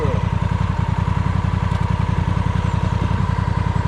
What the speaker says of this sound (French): j'ai entendu un coup d'accélérateur